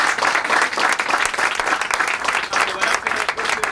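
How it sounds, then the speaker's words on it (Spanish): Sustained applause from a crowd at a school competition award ceremony for first-place winners, dense steady clapping from many hands, close and continuous for nearly four seconds. "aplausos chiquillos para los primeros lugares."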